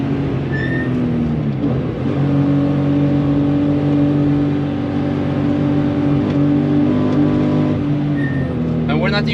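A Porsche 993 CS runs flat out on a racetrack, its engine holding a steady, loud in-car drone with slight pitch shifts as speed changes, while people talk over it.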